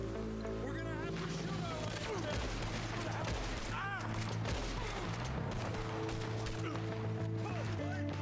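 Red Dead Redemption 2 gameplay gunfire crackles in dense bursts amid a loud, busy game mix of music and effects, with distinct shots scattered throughout.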